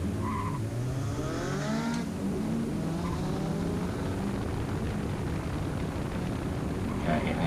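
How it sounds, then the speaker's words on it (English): A drift car's engine drones and its tires squeal during a chase run at a Winton drift round, a steady roar with rising and falling whine tones, heard from inside or near the car. "Okay, I entered a little bit too early probably behind Ben."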